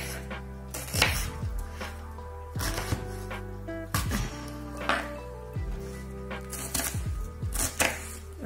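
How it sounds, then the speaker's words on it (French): A knife chopping carrots and other vegetables finely on a cutting board, sharp irregular knocks in quick bursts with short pauses, close and clear with no talking. "Donc voilà, donc moi je vais les couper assez finement."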